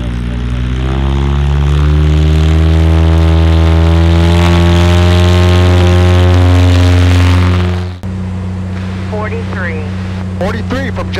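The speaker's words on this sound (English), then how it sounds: "new engine in the SKYWAGON pulls really hard" A Cessna 180 Skywagon with a new engine in flight, its piston engine and propeller droning loud and steady with a strong harmonic hum, then the tone dips abruptly and continues under brief cockpit chatter.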